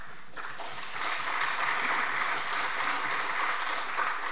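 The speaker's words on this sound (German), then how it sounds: "Applaus" Audience applause at an SPD state parliamentary group event, a steady wash of many hands clapping that swells after a brief start and holds evenly throughout, with no voices over it.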